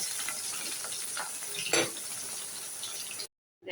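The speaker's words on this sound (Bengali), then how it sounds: "আমি সব মাছ একসাথে ভাজবো না, আমি একটা একটা করে দুটো দুটো করে ভাজবো" Rohu fish pieces fry in hot oil, a steady close sizzle with a brief louder crackle burst midway, cutting to silence near the end.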